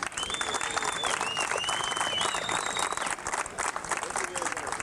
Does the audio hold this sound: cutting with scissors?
no